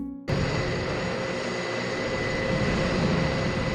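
Turboprop airplane on landing approach, a steady, loud engine drone with a broad whine that starts abruptly and holds evenly throughout.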